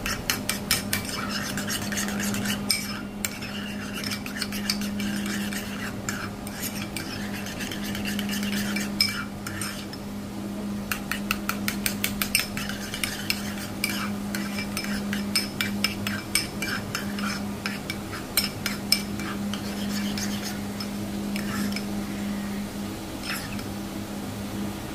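A mixture is whisked in a bowl while preparing katla fish curry, with steady, continuous scraping and clinking from the utensil against the bowl, and a constant low hum underneath, with no talking.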